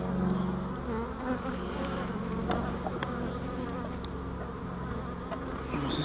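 A swarm of honeybees drones continuously around hive frames, a dense, close, unbroken buzz with individual insects flitting nearby.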